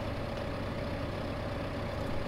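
A tractor engine in Farming Simulator 2015 rumbles steadily and loudly with a low, even drone, the machine's front end submerged in water.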